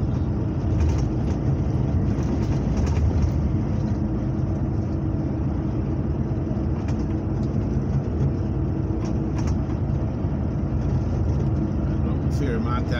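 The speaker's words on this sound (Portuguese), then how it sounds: "O caminhão pula um pouco, bate um pouco" Heavy truck rolling over rough, broken asphalt near Caxias, Maranhão, a steady loud low engine rumble and road roar filling the cab with occasional knocks and jolts, continuous and close.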